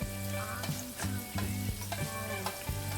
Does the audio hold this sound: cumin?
yes